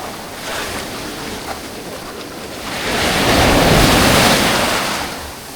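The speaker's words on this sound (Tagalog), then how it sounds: "Grabe yung mga alon dito." Ocean surf roars steadily on Dibut Beach with wind buffeting the microphone, swelling louder as a big wave crashes in the middle, then easing off.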